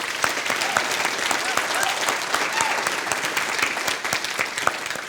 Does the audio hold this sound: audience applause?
yes